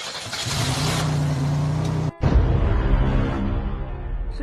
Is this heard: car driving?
yes